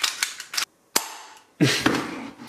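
A tactical laser device is dry-fired empty, giving several sharp mechanical clicks and snaps in quick succession, then a longer rattling burst, close and crisp.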